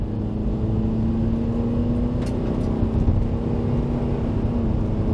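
Honda car with a transmission fault pulling away in first gear at medium throttle, a steady close engine drone with a sustained tone that rises slightly, no talking.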